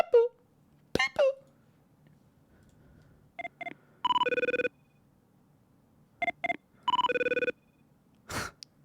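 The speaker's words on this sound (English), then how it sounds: "The 24 ringtone sound? What's that? 24 ringtone sound? Like Jack Bauer" The electronic phone ringtone from the TV show 24 plays in two matching bursts of sharp tonal beeps followed by a rapid trilling ring, separated by quiet gaps, with brief human sounds at the start and end.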